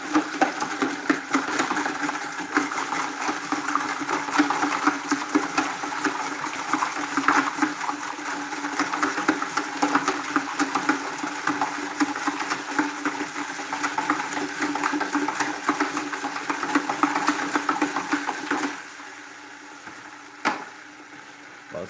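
A mixer churns salt into about five gallons of saltwater for an aquarium, a steady, close whirring and sloshing drone that runs unbroken for most of the stretch, then cuts off, leaving near quiet with a faint knock.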